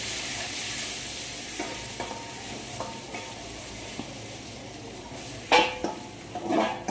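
Garlic sizzles in hot oil with cumin while tempering a bitter gourd and onion curry in a home kitchen, a steady hiss broken by a few spoon clinks and metal pan knocks near the end.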